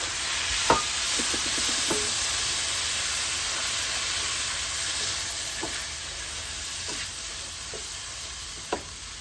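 Minced medium tomatoes go into a duck curry with coconut milk, setting off a loud, steady sizzle close by, with a few scattered clicks and taps from stirring over the frying hiss.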